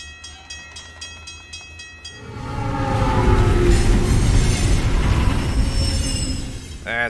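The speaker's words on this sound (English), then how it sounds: "Just keep watching them trains." A train in the video game Alpha Protocol rumbles past loudly. A rhythmic clatter of wheels opens the pass, then swells into a sustained roar with squealing tones. A rising screech comes at the end.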